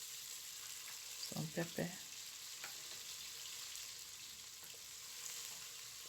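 Onions sizzle quietly in a pan, a steady soft hiss with a few brief stirring clatters near the start, and a voice briefly speaks over it.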